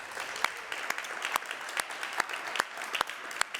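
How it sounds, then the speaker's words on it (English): Audience applause at a 5G consumer entertainment demo day event in Bonn, a steady, sparse patter of hand claps heard from a distance and fairly faint, with no speech over it. "So here in Bonn, we get a big applause for all the partners and all the sponsors"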